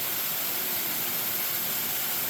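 Stiles Falls, a tall waterfall with a pool at its base in Floyd County, Virginia, gives a steady, loud, broadband rush of falling water with no breaks.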